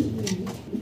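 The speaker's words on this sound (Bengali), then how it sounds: "দুইটা কবুতর মাশাআল্লাহ দেখার মতো বিগ সাইজের" Cooing of big fancy pigeons kept in a loft, low soft rolling coos running through a short stretch at moderate level with no talk.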